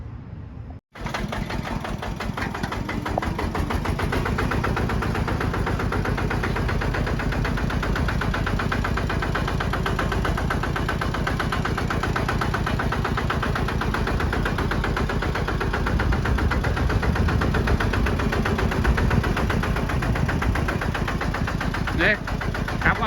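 A KRT-140plus multipurpose walking tractor's engine runs on a test drive, starting abruptly after a moment of quiet and then chugging loud and steady close by, its rapid firing rhythm unbroken to the end.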